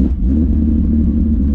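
Car pulled out of a garage, a steady low idling rumble with slight engine clatter, close and continuous throughout.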